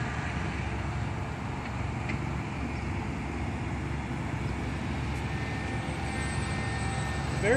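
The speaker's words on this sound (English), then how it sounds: "Very little stick inputs move this huge aircraft." Large carbon-fibre Skywalker RC model airplane in flight on a four-cell battery; a steady, continuous motor and propeller drone at moderate distance, fairly quiet and unchanging throughout.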